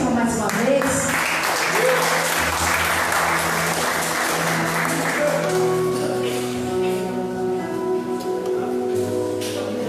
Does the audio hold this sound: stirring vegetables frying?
no